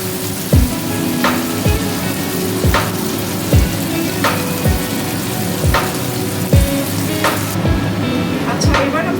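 Prawns fry in oil with a constant sizzle, broken by a regular series of sharp scraping strokes from stirring or turning. No voices.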